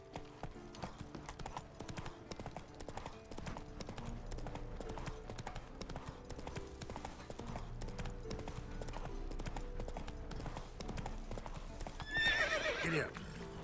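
Hooves of the horse Roach beat in a steady galloping clip-clop in The Witcher 3, with game music and ambience underneath and a whinny near the end.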